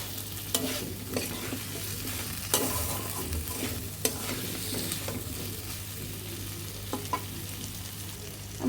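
Okra frying in a mustard masala sizzles steadily in a pan, with a constant low hum beneath and periodic clinks and scrapes of a spoon stirring through it; no voices.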